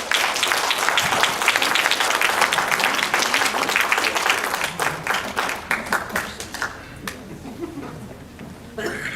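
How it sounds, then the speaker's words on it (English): An audience claps after a dance performance at a Vietnamese community event. The applause starts dense and loud, then thins into scattered claps and fades out toward the end. "Please, a round of applause."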